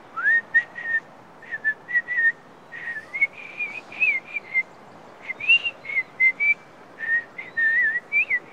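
Someone whistles a lively tune of short, bright notes that rise and dip, with brief pauses between phrases and no other sound.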